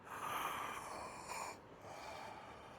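Deep, strong breathing cycle during a breathing exercise, with loud rushing breaths filling most of the span, one long draw that eases briefly before another steady breath follows; no talking.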